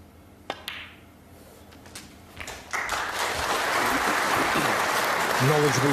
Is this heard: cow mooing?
no